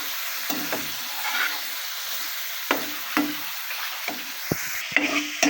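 Spice masala with salt stir-fried in a pan, a soft continuous sizzle broken by repeated scraping strokes of a spatula at an uneven pace, close and with no talk.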